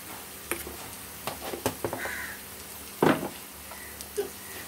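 Potatoes fry over a low flame in a home kitchen pan, a soft crackling sizzle broken by scattered clicks and taps and one louder clatter partway through.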